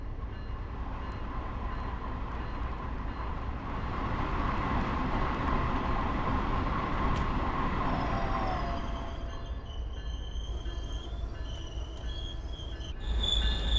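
An M7 commuter train on the Long Island line in Train Sim World 5 rolls past without stopping, with a steady loud rumble of wheels, then squealing wheel tones and beeping signals toward the end.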